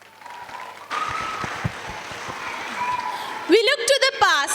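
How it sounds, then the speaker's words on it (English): At a school performance event, an audience breaks into applause that builds suddenly and holds steady. An amplified voice speaks over it and cheers rise near the end. "Let us cheer for our performance with big round of applause."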